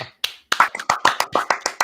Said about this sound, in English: Go ahead, clap, Josh.